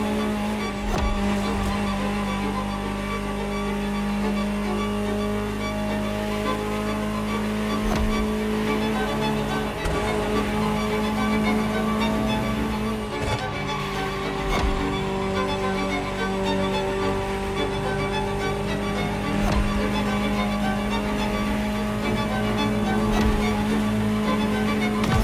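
Ferrari engine in The Crew Motorfest, a steady droning hum that holds at even loudness throughout, continuous and close with no pauses or rev spikes.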